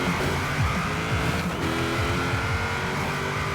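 A Toyota 2000GT drag launch in Forza Horizon 4, engine roaring loud and close with rising and falling revs as gears shift, tires squealing under hard acceleration.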